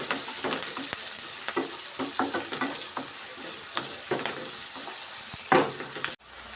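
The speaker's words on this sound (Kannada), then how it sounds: "ಈ ಥರ ಫ್ರೈ ಮಾಡ್ಕೊಳ್ಳೋಣ ಕೆಂಪಗಾಗೋವರೆಗೂ." Ingredients with curry leaves sizzle in hot oil in a pan for egg rice, with crackling spits and repeated scraping stirs of a spoon, close and fairly loud, then a sudden stop at the end.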